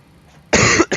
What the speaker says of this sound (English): you're gonna hear me coughing a lot